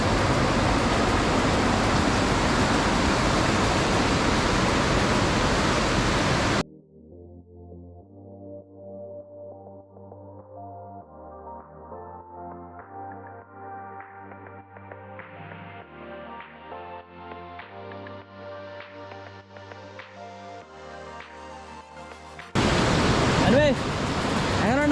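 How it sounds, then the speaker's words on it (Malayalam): A loud, steady rush of water flowing from a check dam fills the opening seconds, gives way to a long stretch of rising music, then the water roar returns at the end. "ഒരു ചെക്ക് ഡാമുണ്ട് അവിടെ വരുന്ന വെള്ളം ഇങ്ങനെ ഒഴുകി ഇങ്ങോട്ടേക്ക് പോരും"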